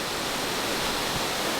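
Pulang Bato waterfall near Dumaguete, a cascade over red rock, gives a steady, dense rush of falling water, loud and close, with no voices over it.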